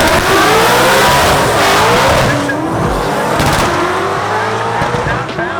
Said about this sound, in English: Pro Charge fed 99 model Mustang, the Brightmare car.